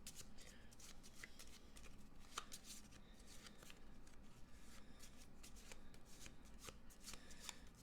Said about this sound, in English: we're going to shuffle this deck